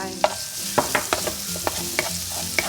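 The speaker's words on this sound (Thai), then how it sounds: "ผัดให้กระเทียมสุกนะคะจะมีกลิ่นหอม" Garlic stir-frying in hot oil sizzles steadily, with a series of sharp scrapes and taps as a utensil stirs it around the pan.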